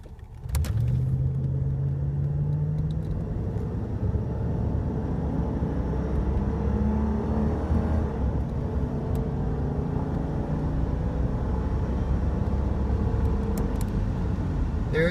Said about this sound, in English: So 0 to 60 in the 91 town car.